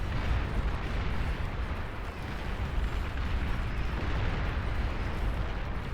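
Commander unit blowing up in the real-time strategy game Beyond All Reason, a dense, continuous rumbling blast with deep roaring bass that holds loud for several seconds.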